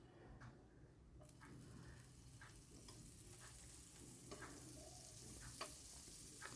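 Butter melting on a hot tawa griddle for buttered toast, a quiet, steady sizzle that slowly builds, broken by a few faint clicks and scrapes, close by and with no one talking.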